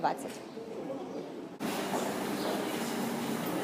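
A metro train in Lyon rumbles steadily through a station or tunnel, with a sudden shift in tone partway through as it moves. The sound is continuous and fairly close, and a voice is heard over it.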